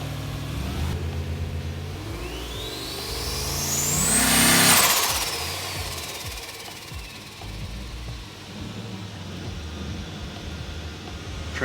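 Turbo V8 engine in a roughly twenty-year-old project car revs hard, climbing to a loud high whining peak then falling back to a lumpy idle, with rough low rumble throughout.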